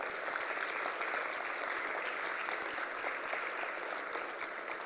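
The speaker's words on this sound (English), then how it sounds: "So a huge round of applause to yourself." Steady, dense applause from a seminar audience closing the first day of SymbiTalks 6.0, continuous and even throughout with no individual claps standing out.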